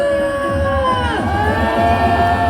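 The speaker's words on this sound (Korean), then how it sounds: "여러분의 큰 박수와 함성 시작하겠습니다" A large outdoor political rally crowd cheers and shouts in a sustained, loud roar, with whoops and a tonal voice rising over it, continuous and dense throughout.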